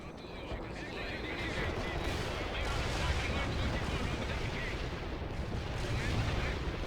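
Artillery and gunfire in the real-time strategy game World in Conflict, a dense, continuous roar of battle with overlapping blasts and shots, mixed with voices and other game noise.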